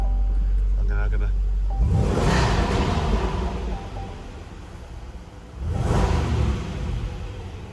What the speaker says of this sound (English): the exhaust note has now gone into more of a deep rumble